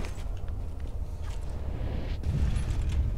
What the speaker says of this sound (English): It closed the door.